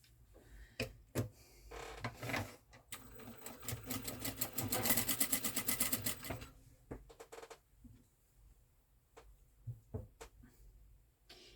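A sewing machine stitches the sides of a fabric Christmas decoration in a rapid mechanical whirr lasting several seconds, framed by scattered clicks and handling knocks before and after, quiet and close.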